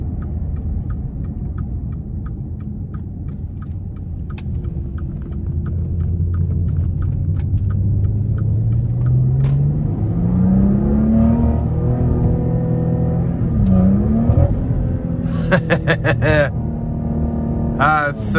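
A 2017 Maserati Ghibli SQ4 engine and exhaust pull hard as the car accelerates, a loud rising drone climbing steadily in pitch, dipping briefly at a shift, with a soft ticking and brief voices in the cabin.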